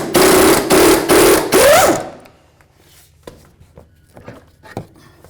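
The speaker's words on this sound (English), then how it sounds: "I did that using my 19mm socket." An impact or air tool drives a 19mm socket to break loose a control arm bolt on a Dodge Caliber, giving about two seconds of loud, rapid hammering bursts before falling quiet with light clicks and handling noises.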